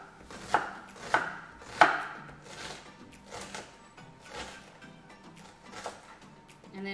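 A kitchen knife chops an onion on a cutting board for chicken paprikash, several crisp knocks at first and then softer steady strokes, close up with faint voices in the background.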